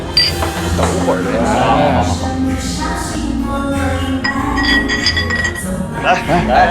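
Glasses clink together in a toast at a lively drinking gathering among friends. The bright chinks ring out under loud chatter and background music.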